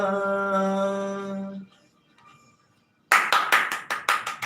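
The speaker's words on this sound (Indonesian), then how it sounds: "Tepuk tangan sendiri." A single person claps alone at an informal home gathering, about a dozen quick, sharp claps close by. A sustained sung tone comes first, then a short near-silence.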